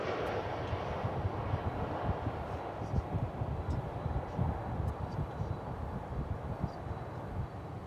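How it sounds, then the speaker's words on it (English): An American Airlines Boeing 737-800 inbound from Omaha at DFW Airport, a moderate, steady engine rumble with a wash of broadband noise that persists throughout without a clear peak. "Yonder cometh American Airlines Flight 2946 from Omaha, Nebraska."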